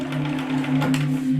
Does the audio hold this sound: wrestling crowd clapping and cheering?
no